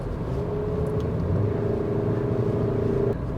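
A 2022 Maruti Suzuki Brezza automatic, 103 bhp engine, driving along with a steady low cabin rumble and smooth, even engine drone throughout.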